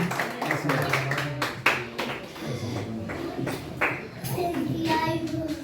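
Applause ripples through a church congregation at an evening service, a steady crackle of many hands clapping at moderate volume, mixed with voices and a child's chatter.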